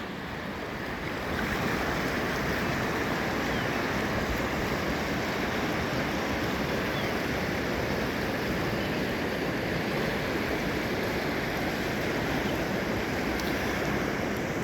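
The Orange River rushes beneath a small bridge at Kanoneiland, a constant, dense roar of flowing water with some wind buffeting, steady and unbroken for the whole stretch.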